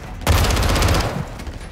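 A short, loud burst of rapid automatic gunfire in the video game Call of Duty Modern Warfare II, a dense volley that cuts in sharply and decays into a fading rumble.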